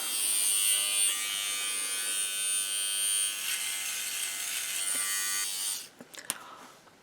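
An electronic hair removal device buzzes high-pitched and steadily against facial skin up close for several seconds, then cuts off, leaving a few faint clicks and taps.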